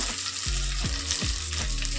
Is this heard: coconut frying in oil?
yes